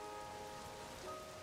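Steady rain pours throughout a video game scene, a dense even hiss of drops on surfaces with faint tonal music lines running beneath, no voices.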